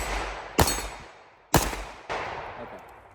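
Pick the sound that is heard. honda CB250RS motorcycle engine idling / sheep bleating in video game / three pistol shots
three pistol shots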